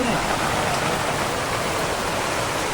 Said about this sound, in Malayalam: ഭയങ്കര മഴ പെയ്യുന്നുണ്ട്.